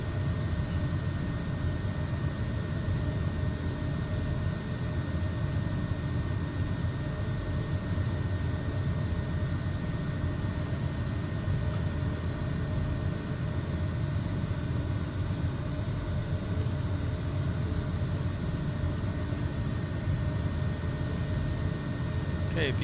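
Steady engine drone of an aircraft in Microsoft Flight Simulator 2024 with the throttle eased back during descent, a continuous low hum with faint tonal lines, even and unbroken, under occasional speech.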